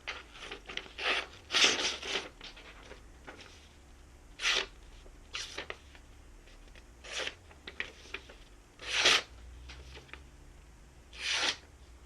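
A Les Stroud SK Mountain survival knife slices through a sheet of paper in a paper cut test, making several short, crisp rasping swipes. The bursts come one at a time with pauses between them, close and fairly quiet.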